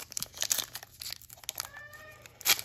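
A pet cat gives one short meow in a quiet room, heard amid the crinkle and tear of trading-card pack wrappers being opened.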